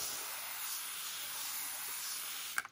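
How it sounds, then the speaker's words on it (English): A spray bottle mists moss inside an isopod enclosure, a steady close hiss of fine water spray running the full length, ending in a couple of sharp clicks. "what I'll do is gently spray down the moss."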